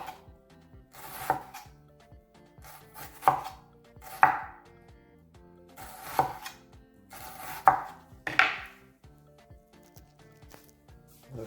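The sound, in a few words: knife cutting vegetables for Haitian pikliz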